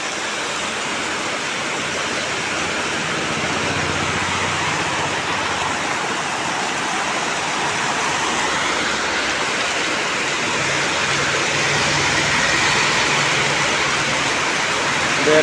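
A steady, dense roar of cold heavy rain continues without a break, loud and close, with no voices over it.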